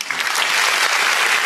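A crowd at a youth dialogue event with Peter Obi claps in a burst of dense, loud applause for a second and a half.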